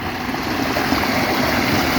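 Water running in a stream beneath a small garden bridge at a pub: a steady, close rushing wash with no distinct drops or voices.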